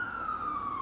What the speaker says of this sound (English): there is a siren in every single video we film.